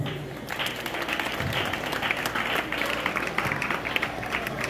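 An audience at a school proclamation ceremony applauds steadily, a dense crowd of clapping hands that keeps going throughout with some voices mixed in.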